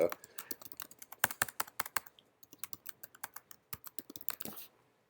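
Rapid, irregular clicking of keys on a computer keyboard, close and crisp, in uneven bursts that trail off near the end.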